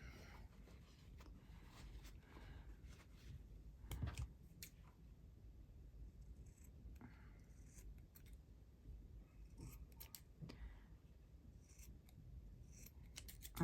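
Scissors snip and trim the threads and fabric of a small embroidery piece. The cuts come close and fairly quiet as a series of irregular crisp snips, with soft rustling between them and no talking.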